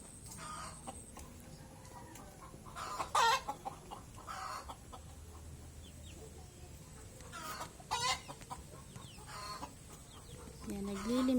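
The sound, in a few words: chickens clucking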